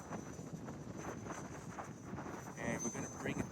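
Gusty wind buffets the microphone at an open field where electric ducted-fan RC jets are flown, a steady broadband rush that swells louder near the end with no other clear sound.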